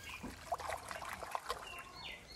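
Creek water trickles and splashes softly as dirt is panned for gold in a creek near Creswick, with small irregular pours and light sloshing close by, no talk.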